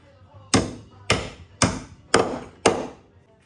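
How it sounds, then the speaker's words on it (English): Five sharp metallic hammer blows strike a wrench fitted over a snapped cradle bolt, at a steady, even pace, each ringing briefly before the next, loud and close. "Grab a hammer."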